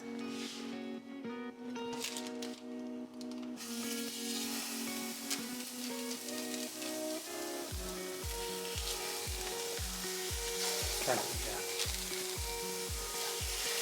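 Burger patties fry in beef tallow in a hot pan at medium heat, giving a steady crackling sizzle under background music with a pulsing beat that starts partway through.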